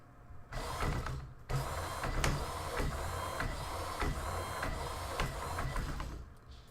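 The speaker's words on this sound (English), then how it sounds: "We're just gonna basically just move the wheel from lock to lock and see how fast it can go." The motor of a modded CSR-E racing wheel whirs and grinds as the wheel swings from lock to lock, a loud mechanical drone with short pauses and repeated rhythmic clicks.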